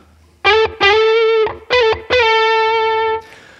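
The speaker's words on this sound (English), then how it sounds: "I'm sure you agree the backwards slide grace note sounds particularly gnarly." Heavily distorted electric guitar plays slide grace notes sliding both forwards and backwards, four loud sustained phrases in turn with brief breaks, no voice over them, the last note ringing longest before cutting off.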